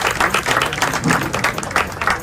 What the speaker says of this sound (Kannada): ಜೋರಾಗಿ ಚಪ್ಪಾಳೆ ತಟ್ಟುವುದರ ಮೂಲಕ ನಾವು ಸ್ವಾಗತವನ್ನು ಮಾಡ್ತೀವಿ